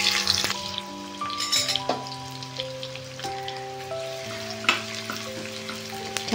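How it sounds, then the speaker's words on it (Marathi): Chopped onion and tomato sauté in hot oil in a pan, giving a steady bright sizzle with soft stirring scrapes, close and continuous, with background music tones running underneath. "छान असे तेलामध्ये परतवून घेतले"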